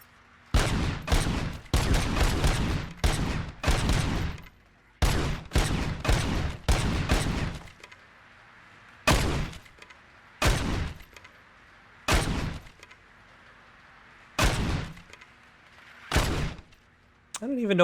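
Gunfire at a shooting range in the video game RoboCop Rogue City: bursts of rapid shots early, then single spaced shots with pauses between them, loud and close.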